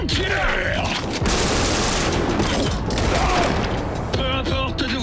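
Dense, sustained gunfire from a weapon in the video game Cyberpunk 2077, with loud rapid bursts and booms filling the whole stretch, joined by game sound effects.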